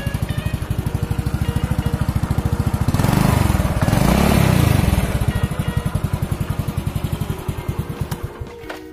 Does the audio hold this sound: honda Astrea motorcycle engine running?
yes